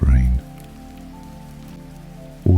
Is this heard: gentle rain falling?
yes